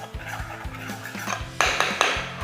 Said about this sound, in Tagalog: Haluin lang natin ng mabuti.